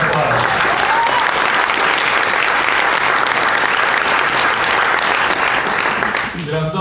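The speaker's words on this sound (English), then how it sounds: "let's give them a round of applause" Loud, dense audience applause for customer service staff at a seed industry summit fills the hall steadily, then fades near the end as voices come through.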